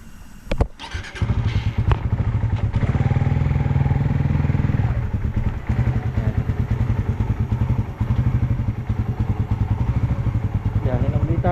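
A motorcycle starts and rides off: a thump and clatter, then the engine settles into a loud, steady, throbbing idle and pulls away with rhythmic revving, close by, with a voice speaking over it.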